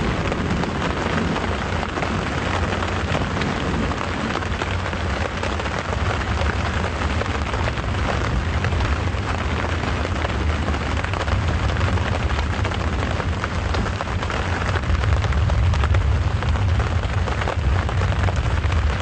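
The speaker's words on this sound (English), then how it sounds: "Nothing quite like an African thunderstorm." Heavy rain pours steadily during an African thunderstorm at Djuma Game Reserve, a dense, unbroken hiss of drops on surfaces with a low rumble of thunder swelling underneath, and no voices.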